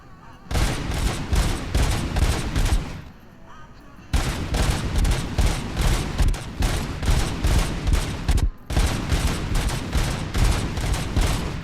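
Rapid automatic video game gunfire with an auto feeder and pellet rounds, loud sustained bursts of shots broken by brief pauses, with a voice talking faintly in the background.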